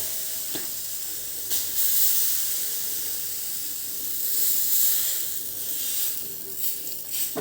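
Khata puda batter hissing and sizzling on a hot pan, a steady close spitting hiss with a few brief louder bursts, no voices.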